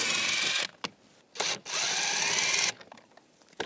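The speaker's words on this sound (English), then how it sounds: "Using a 7mm socket, take these screws out." A power driver with a 7mm socket backs screws out of a car door panel on a 2010-2017 Chevrolet Equinox, whirring in close bursts, one long run and a couple of short ones, separated by quiet pauses.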